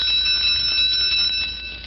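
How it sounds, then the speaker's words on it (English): A school bell is struck hard and fast, giving a sustained bright metallic ringing that stays loud and continuous before easing off slightly at the end. "Listen to her whack that bell."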